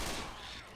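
Rapid gunfire from the zombie video game Left 4 Dead 2 bursts briefly and loudly, a short fusillade that fades within a second.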